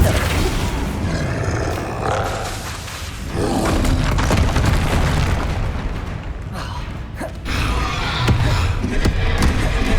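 The Flipendo spell being cast in the PS5 game Hogwarts Legacy, with heavy, booming magical blasts and rumbling impacts that continue densely and loudly as a voice speaks over the effects.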